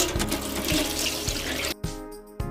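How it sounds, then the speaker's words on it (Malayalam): Water splashes and gushes steadily from a jug into a metal pan, then breaks off into a couple of short pours with brief gaps between them. "ഈ ഒരു ജഗ് വെള്ളം ഇതിലേക്ക് ഒഴിച്ചു കൊടുക്കാം"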